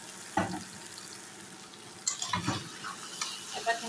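Beef pieces fried and stirred in a pan for a spiced braised beef dish, with a steady low sizzle broken by a few close scraping stir strokes near the start and middle, no talking.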